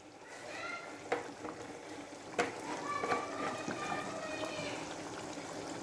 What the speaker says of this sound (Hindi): अब हम गोश्त को अच्छी तरह भूनेंगे।